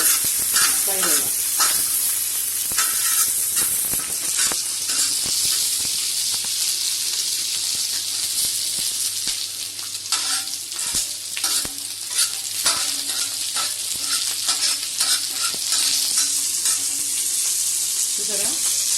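Idli pieces fry and sizzle in hot oil while being stirred, a steady close hiss with scraping clatters of the utensil running throughout.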